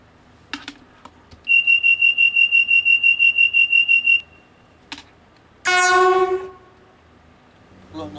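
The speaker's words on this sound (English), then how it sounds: "Blowing the horn instead of actually moving the train" A train horn sounds from a stopped train in the Roblox game Bathwick Town: one long, steady, slightly pulsing blast of nearly three seconds, then a shorter, richer chord blast a moment later, both loud and clear with no talk over them.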